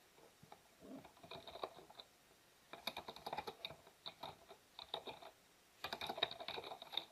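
Bursts of quick computer keyboard typing while entering survey report details, soft close keystrokes in three uneven runs separated by brief pauses, with no voice over them.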